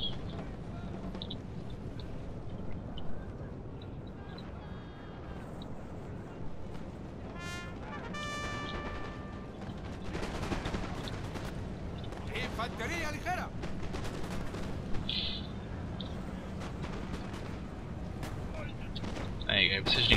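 Massed infantry musket fire in Napoleon Total War at a Waterloo land battle: scattered crackling volleys and sharp reports of varied loudness over a continuous battle rumble, with someone talking over it.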